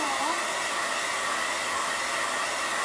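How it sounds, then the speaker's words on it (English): A blow dryer runs continuously at close range, a loud, even rushing whir of air with no pauses and no voices. "The dogs get scared when I use the blow dryer."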